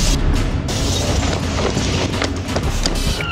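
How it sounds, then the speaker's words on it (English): An external gas line explodes at a house, producing a loud, continuous roaring blast and rumble that fills the whole stretch without any voices. "Other officers arrive just as the gas line explodes."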